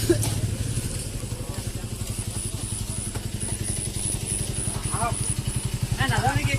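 Two motorcycles idle outdoors with a steady rhythmic low putter throughout, while people talk nearby over the engines.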